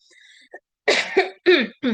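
A series of four sharp coughs in quick succession, close and fairly loud, after a brief faint sound.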